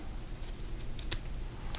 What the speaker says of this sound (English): Now I'm going to take my scissors, sharp scissors, and I'm going to find right here, and I'm going to cut straight up